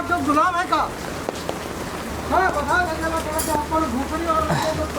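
Heavy rain pours down on a Mumbai street as a steady, loud hiss of drops fills the whole stretch, while a person talks over it.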